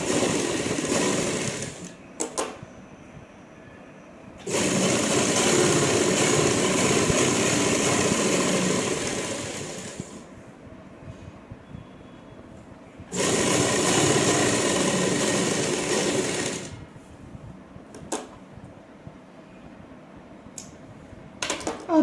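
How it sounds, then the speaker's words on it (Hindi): An electric sewing machine stitches a folded fabric strip for an umbrella frock, whirring in two long loud runs with short bursts and pauses between them. "इस पर सिलाई लगाएंगे।"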